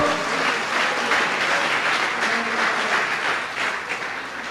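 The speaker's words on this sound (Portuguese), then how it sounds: "dê uma salva de palmas ao Senhor" A church congregation applauds during a service, many hands clapping in a full, sustained ovation at moderate loudness that tapers slightly toward the end.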